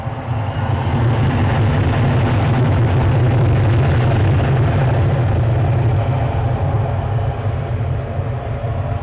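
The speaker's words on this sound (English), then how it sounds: "Jet 2 pushing back to my left." A Jet2 airliner pushes back at Newcastle airport. Its engines give a loud, steady, broad rumble with a strong low hum that holds unbroken throughout, close by and with no talking.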